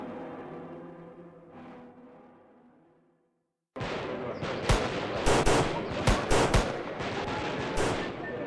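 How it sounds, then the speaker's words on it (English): Celebratory gunfire in a comedic setting: after a quieter musical stretch, a loud burst of rapid overlapping shots erupts and keeps rattling close by, with sharper individual cracks standing out through the dense barrage. "Tone down the celebratory gunfire a little bit, please."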